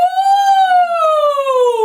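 Human voice imitating a siren in a vocal lesson warm-up, one smooth, loud sustained tone that rises slightly then glides steadily downward, close and alone.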